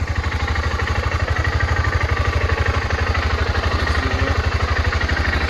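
A 2007 BMW F650GS motorcycle engine idles steadily up close, a loud, even low-pitched chug pulsing throughout with no talking.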